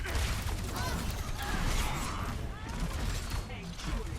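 Dense gunfire pounding Reinhardt's barrier shield in Overwatch, with rapid shots, metallic impacts and whooshes layered over a busy match, continuous and loud.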